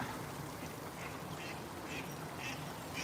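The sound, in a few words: ducks quacking at a park lake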